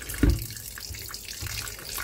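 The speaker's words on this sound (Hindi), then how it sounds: "तो अब इसके ऊपर थोड़ा सा ठंडा पानी मैं डालूंगी, ठंडे पानी से इसको मैं वॉश कर लूँगी सारे को" Cold tap water runs and splashes over freshly made chhena for rasmalai in a home kitchen, a steady wash of flowing water with a brief louder gush near the start, no voices.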